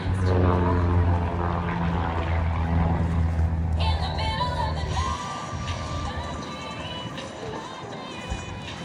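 An aerobatic propeller plane drones loudly overhead at an airshow, its engine pitch shifting as it maneuvers, with distant crowd noise beneath.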